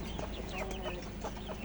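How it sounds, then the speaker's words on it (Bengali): A desi hen clucks repeatedly while laying an egg, a steady run of close, moderately loud fowl calls over a constant low background hum. "এই ডিমটা অনেক কষ্ট করে একটা মুরগি ডিম পাড়ে"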